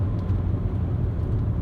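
Heavy road traffic on the highway from Bangalore to Mumbai, a steady low engine rumble and tyre drone heard from inside a vehicle, continuous with no talk.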